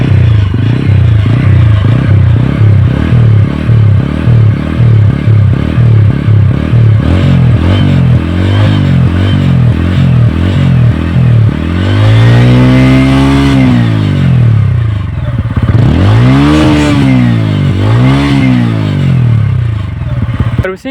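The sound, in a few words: TVS Ronin 225 motorcycle exhaust revving after servicing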